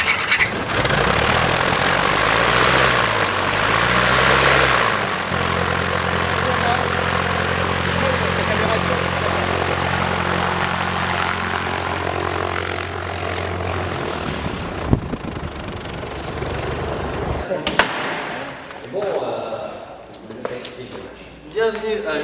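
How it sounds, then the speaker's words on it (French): A light aircraft engine at an aero club idles with a steady propeller drone, its pitch wavering at first before holding even, with some talk over it and a sharp knock near the end. "Le moteur aime pas ça, c'est le moteur là."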